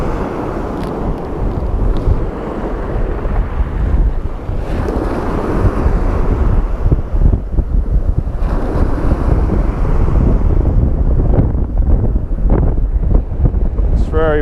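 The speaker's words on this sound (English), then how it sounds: "It's very windy, right?" Strong wind buffets the microphone on a coastline during sea bass fishing, a loud continuous roar with gusty surges, likely mixed with surf.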